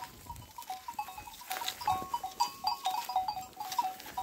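A flock of lambs and sheep bleating repeatedly, several overlapping high calls in an irregular rhythm, moderately near and fairly quiet, with no talk.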